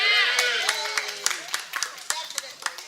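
A small audience gives a round of applause, a burst of scattered hand claps that thins out over a few seconds, with voices also audible.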